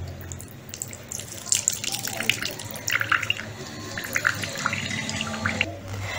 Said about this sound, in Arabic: عصير البطاطا نصفيها بهذا الشكل بالشاش أو بالمصفات